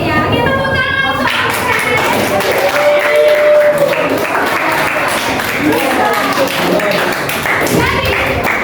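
A classroom of students claps in a burst of applause, dense and close, with voices and a few taps mixed in over the clapping.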